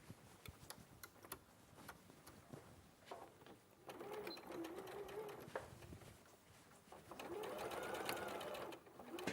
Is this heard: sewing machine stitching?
yes